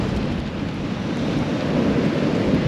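Strong coastal wind buffets the microphone at a beach on England's east coast, a loud, steady roar with gusty rumble and surf-like wash throughout, no voices.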